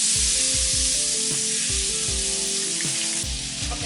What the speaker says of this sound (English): You're gonna add your butter first.